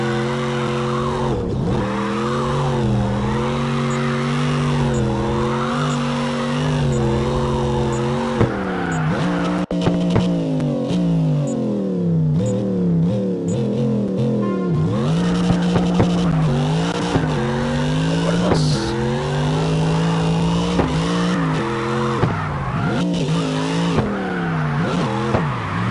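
Engine in the CarX racing video game revs hard through rising and falling pitch sweeps, with tires squealing in long continuous skids; loud and sustained throughout, no voices.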